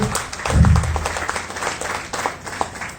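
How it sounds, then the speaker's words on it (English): Audience applause at a medical gathering in Tumkur, India, honouring a doctor: a dense wash of clapping that swells in the first second and then carries on steadily, with a brief low voice-like murmur underneath. "applause for sir."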